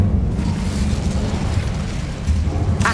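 An Incendio fire spell in Hogwarts Legacy, a loud, sustained roaring whoosh of flame with a heavy low rumble and a sharp burst near the end.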